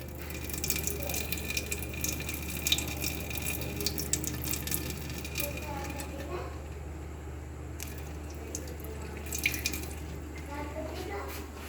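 Soaked rice for Pakistani zarda tipped into a pot of boiling water, a soft wet splashing and gushing with small drips and squishes over a steady low kitchen hum, fairly quiet.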